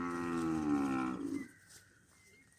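Cattle at a livestock sale give one long, loud moo that fades after about a second and a half, leaving quiet background.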